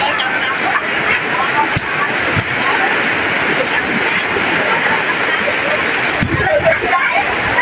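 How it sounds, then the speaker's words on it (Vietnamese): Rain pours steadily on an outdoor street market in Vietnam, a dense, constant hiss under the murmur of vendors and shoppers, with occasional louder drips and knocks. "Mưa mọi người ơi."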